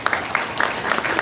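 A brief burst of audience clapping at a charity iftar gathering, scattered claps from a seated crowd over a little more than a second, fairly close and moderate in volume.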